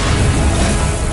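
A short, loud burst of booming noise from an explosive Confringo fire spell cast in Hogwarts Legacy, a dense roar with no clear break.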